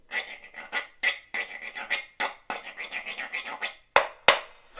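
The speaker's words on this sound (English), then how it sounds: "I simply took a saw and put some ridges on the edge" A homemade percussion instrument made from a saw with ridges cut along its edge is scraped in quick rasping strokes, a steady rhythmic series of close scratches ending with two sharp taps.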